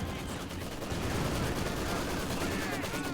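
Dense, continuous gunfire in the World War II strategy game Company of Heroes, with rifles and Maxim and MG42 machine guns in a rattling battle din that never stops.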